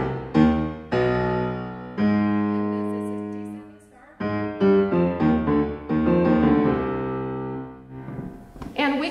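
Solo piano plays the subject of the first movement of Beethoven's Sonata Op. 111, sustained chords and lines rising then falling across several phrases, close and clear, with no voices.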